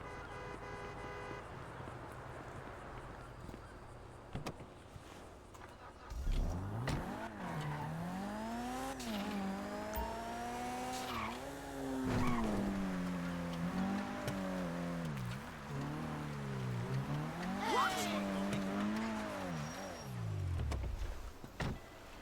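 A car in GTA Online revs and accelerates in a rising, sweeping engine whine after a quieter start, with gear-like dips and a sharp squeal, loud and continuous under game ambience.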